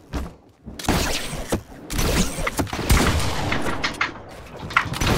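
Gunfire in the video game Fortnite: rapid bursts of shots and sharp cracks in quick succession, loud and dense across the whole stretch, with scattered impact noises.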